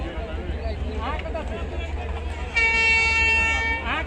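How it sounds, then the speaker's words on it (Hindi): A Nepal Railway train sounds a loud sustained horn blast over a low rumbling engine idle, with a person talking nearby before the horn begins. "ई भेल नेपाल के रेल, नेपाल रेलवे लिखल छै, हॉर्न दऽ रहल छै।"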